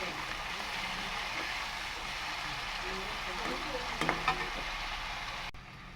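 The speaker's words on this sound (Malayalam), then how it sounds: "മൂന്ന് പച്ചമുളക് ചതച്ചത് നമുക്കിതൊന്ന് നന്നായിട്ട് വഴറ്റാം" Crushed shallots and green chillies sauté in a pan with a continuous, moderately loud sizzle, plus a few scraping stirs and light clatter toward the end.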